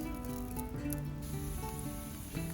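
Halved yellowfoot chanterelle mushrooms dry-toasting in a pan, giving a soft, steady sizzle and faint crackle that runs on without a break.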